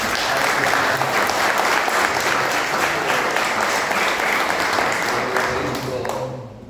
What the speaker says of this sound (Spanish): Yo lo que quiero es darle un gran aplauso a Mati